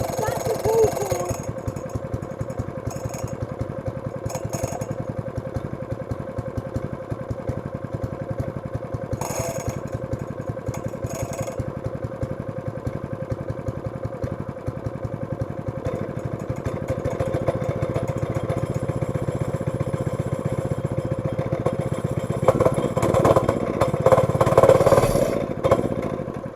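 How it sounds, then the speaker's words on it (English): A Honda-powered Wacker plate compactor's small engine runs steadily at idle after a pull-cord cold start, a close, continuous chugging drone that grows slightly louder near the end, with a person talking over it. "That's the start up of the Honda Waka."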